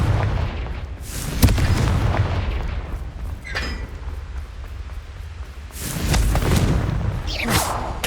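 Confringo fire spell explosions in Hogwarts Legacy, heavy booming blasts with rumbling low end, a sharp crack near the start and a louder burst of impacts toward the end, loud and close.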